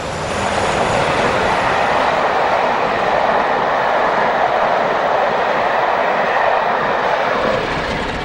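A loud, steady rumble from two Class 47 diesel locomotives hauling the Northern Belle train, close by and continuous throughout, no voices.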